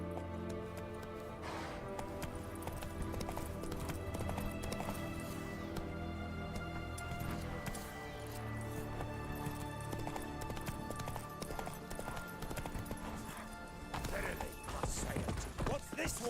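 Horse hooves clip-clop at a gallop in The Witcher 3, a steady drumming rhythm set under game music and ambience.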